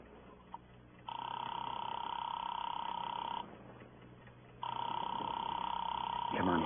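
A telephone tone in a 1949 radio drama: two long bursts of steady electronic tone separated by a pause, on a narrow-band, old-sounding recording.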